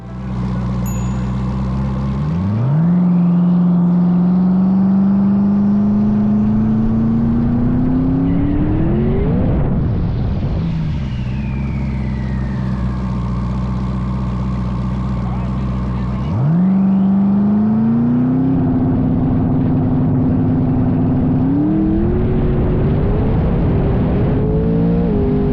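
A loud 1970 twin-turbo Chevelle races, engine revving hard through rising gear pulls with sweeping whine, dropping and climbing again, close and continuous throughout.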